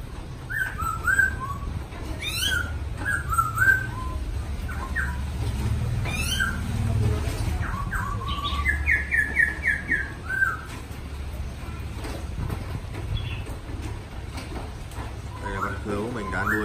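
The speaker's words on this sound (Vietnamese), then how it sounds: "các bạn đã được nghe tiếng chim cứu của kênh Chim Cảnh Đất Việt" A caged chim cứu, a Vietnamese songbird, sings repeated bright chirps and trilled phrases, fairly close, while someone talks over a low background rumble.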